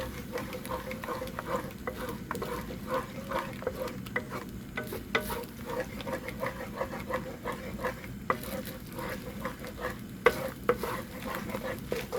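Cheese shrimp fried rice being stir-fried in a pan, a steady low sizzle under repeated scraping and clinking of a utensil against the pan, with no speech.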